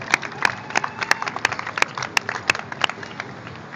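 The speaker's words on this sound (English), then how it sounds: "Please give us a round of applause." Scattered applause from a small outdoor audience at a street break-dancing show on the Portland waterfront: a handful of sharp, uneven claps spread over a few seconds, close and fairly light.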